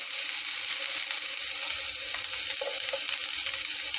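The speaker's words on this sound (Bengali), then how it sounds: "একটু একটু ভাজা ভাজা হয়ে আসলে তার ভিতরে আমি এখন দিয়ে নেব পেঁয়াজ কুচি করে নেওয়াটা" Chopped onion sizzles steadily in a pan of hot oil while radish greens are being cooked, a dense, even hiss that holds at a constant level for the whole stretch with no voices.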